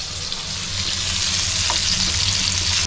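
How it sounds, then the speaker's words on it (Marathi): Pieces of fish frying in a hot pan, a loud steady sizzle that runs unbroken, close up, with no talking. "आता इथे आपली मच्छी फ्राय झाली आहे बघा"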